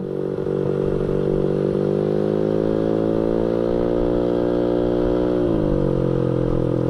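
A Honda Vario scooter engine runs steadily and loudly nearby, its droning pitch creeping slightly upward before dipping near the end.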